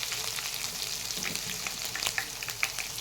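Chopped ginger and garlic frying in hot oil with curry leaves for lemon rice, giving a dense, steady crackling sizzle with a few brighter pops near the end.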